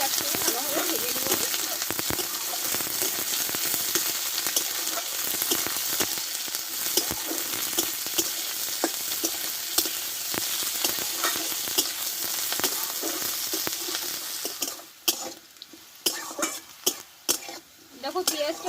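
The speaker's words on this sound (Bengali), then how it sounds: "লাল লাল করে ভেজে নিয়েছি আমি ভালোভাবে" Onions and slit green chillies frying in a pan, producing a dense, loud sizzle with repeated stirring scrapes that drops to sparse clatters and crackles near the end.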